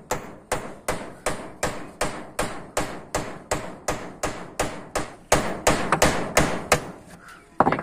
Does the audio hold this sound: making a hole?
yes